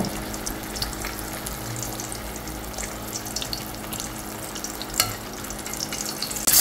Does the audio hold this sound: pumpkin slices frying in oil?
yes